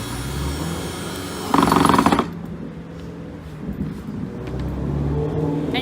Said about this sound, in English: And then you can use a drill or a screwdriver.